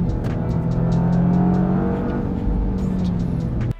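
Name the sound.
Toyota GR Yaris cornering with handbrake and throttle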